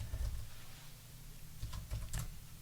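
Typing on a computer keyboard during an Azure Active Directory demo, a soft scatter of quick key taps over a steady low background hum, close and faint, with no speech.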